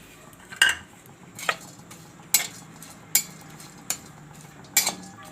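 Chopped cashews, melon seeds and raisins roast in a pan for poha halwa as a spoon stirs them, making sharp metallic scrapes and clinks about every second over a soft sizzle, with no voices.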